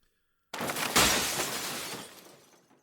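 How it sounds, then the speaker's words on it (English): A loud crash of shattering glass bursts out of silence, then a long scattering shimmer of debris slowly fades away. "A loud crash jolted me upright."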